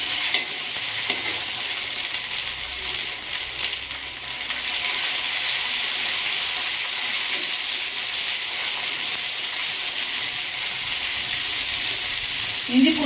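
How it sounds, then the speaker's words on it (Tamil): Ginger garlic paste sizzles and fries steadily in a pan, a constant close hiss with occasional stirring scrapes, continuing without interruption and with no talking. "இஞ்சி பூண்டு பேஸ்ட் பச்சை வாடை போகிற வரைக்கும் நல்லா வதக்கிக்கோங்க"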